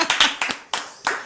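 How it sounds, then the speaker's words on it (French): Clapping during a French television program, a handful of sharp, distinct hand claps in an uneven rhythm, close and fairly loud, with no voices over them. "Et ça s'applaudit encore."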